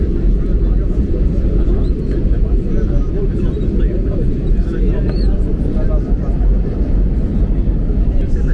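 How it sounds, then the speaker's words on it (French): A Lufthansa Airbus A340 taxis quickly to its parking stand at Toulouse-Blagnac, giving a steady, loud, low engine rumble with a broad roar that holds unbroken for the whole stretch. "Roulage rapide sur les taxiways Papa vers notre parking en passant devant la tour de Blagnac."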